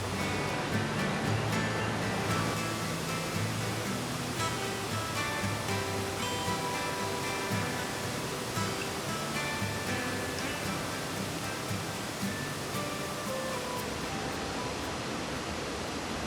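Steady broadband roar of Upper Falls, a waterfall on the Genesee River in Letchworth State Park, New York, heard close and continuous throughout with no talk over it.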